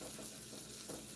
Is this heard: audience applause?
no